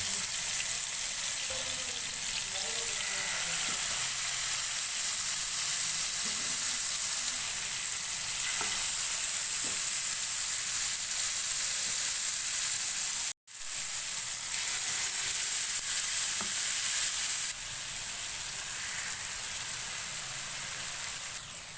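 Chicken drumsticks for tangdi kabab fry in hot oil over low heat, a steady, close, dense sizzle with soft crackle that runs unbroken apart from one instant dropout, with no voices.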